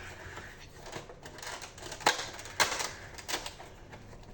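A Thor Funko Pop figure is unboxed with close, soft crinkles, taps and sharp plastic clicks in an irregular rhythm, and nobody speaks.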